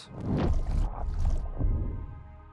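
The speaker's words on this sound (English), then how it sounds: "And here we have this nice kind of like a water whoosh sound with the reverb on" A water whoosh sound effect drenched in reverb swells in two or three surging waves, loud and close, with splashy rushing texture fading into a dark tail.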